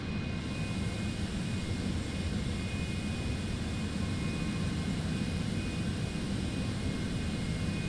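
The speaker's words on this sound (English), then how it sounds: "We're just waiting for this 737 to taxi and then we'll cut across." A Boeing 737 jet taxis in Microsoft Flight Simulator 2024, giving a constant, even engine whine and rumble at moderate distance with no other sounds.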